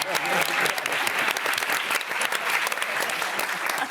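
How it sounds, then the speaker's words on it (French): A large crowd at a Cannes film festival press conference breaks into loud, sustained applause, dense and steady for several seconds with no pause. "Applaudissements."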